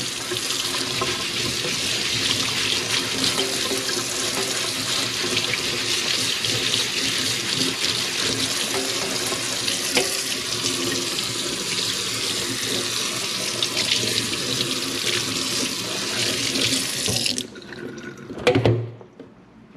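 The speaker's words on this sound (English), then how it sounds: "Quickly clean our cutting board, soapy hot water." Running tap water pours into a kitchen sink as a cutting board is washed in soapy hot water, a steady loud rushing stream that stops abruptly near the end, followed by a brief clatter.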